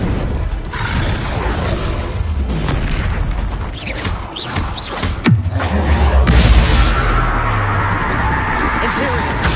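In Hogwarts Legacy, the fire-blast spell Confringo sets off deep booming explosions during spell combat. Each boom is followed by a heavy rumble, with the loudest burst in the middle of dense, busy game noise.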